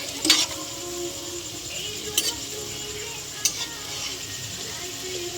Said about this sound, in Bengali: তারপর আমরা একে একে তালের বড়াগুলো ভেজে নিচ্ছি।